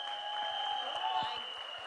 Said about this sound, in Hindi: ताली बजा के दिखा दीजिए।